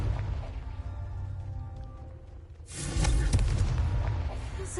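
A Confringo explosion spell in the video game Hogwarts Legacy, a sudden loud booming blast that lingers as a rumbling roar after a quieter stretch of game ambience.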